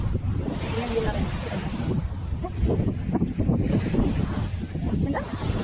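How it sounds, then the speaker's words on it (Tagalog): Sea at Misibis Bay with steady wind buffeting the microphone and waves washing in a continuous broadband roar, with a voice talking intermittently over it. "andito na tayo sa dagat"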